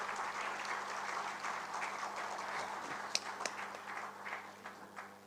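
Applause from the audience at a national HR conference as a speaker is called on stage, a steady, fairly faint crowd clapping with a few sharper claps standing out, fading toward the end.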